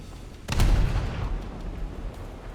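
Naval gun from the frigate HMS Cadiz in a video game fires a single heavy boom, then a rumbling decay trails off.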